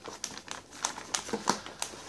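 Crinkling anti-static plastic bag holding a new MSI X370 Gaming Pro Carbon motherboard, handled up close in a quick series of sharp crackles and rustles, with no talking.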